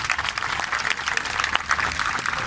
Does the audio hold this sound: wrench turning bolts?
no